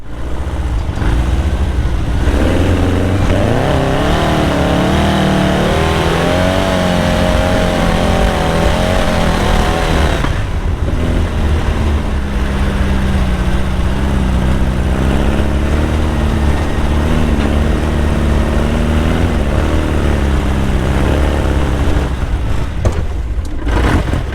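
An off-road vehicle on hand-grooved tires churns along a trail with its engine droning loudly and continuously, revving up and down with shifting pitch over the whole stretch.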